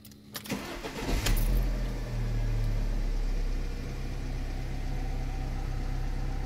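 An Alfa Romeo Giulietta with a stop-start and check-engine fault cranks briefly and catches, then settles into a steady, even idle heard from inside the car, with no talking.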